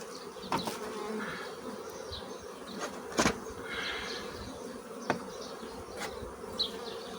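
Honeybees stirred up after their hive frames are opened hum in a dense, continuous buzz, with individual bees zipping close past now and then against the steady swarm drone.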